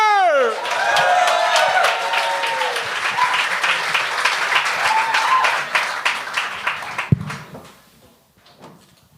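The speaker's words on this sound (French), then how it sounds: "On peut applaudir Jérémy Boivin!" A studio audience at a televised comedy talent show applauds a comedian, loud and dense with cheers, following a rising musical sting, then fading to a few scattered claps after a sharp thump.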